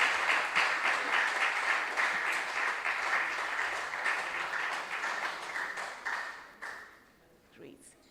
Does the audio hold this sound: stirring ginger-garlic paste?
no